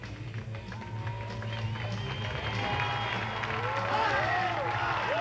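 Spectators at the 1999 Show Ski Nationals applauding and cheering a water ski stunt, a continuous wide crowd roar with clapping, heard alongside a steady low boat engine drone and a commentator talking.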